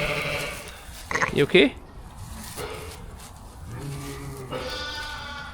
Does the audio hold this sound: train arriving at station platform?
no